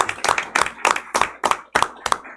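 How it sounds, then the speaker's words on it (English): Applause at a school district governing board meeting: a small group clapping in an uneven, rhythmic burst of sharp claps, fairly close and alone. "I want a round of applause"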